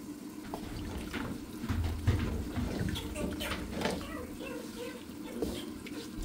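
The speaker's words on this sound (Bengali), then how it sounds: "এখন এর মধ্যে আমি দিয়ে দিচ্ছি গরম পানি" Hot water is poured into a pot of khichuri with sautéed rice, lentils and vegetables, a continuous splashing gush under a person talking.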